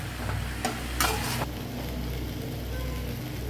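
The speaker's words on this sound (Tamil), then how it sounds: "இப்போ இதை வச்சுட்டு நம்ம இந்த கத்திரிக்காயை நம்ம வதக்கி எடுத்துக்கலாம்" Brinjal sautés in oil in a pan with a steady low sizzle, while a few brief scraping stirs come early on.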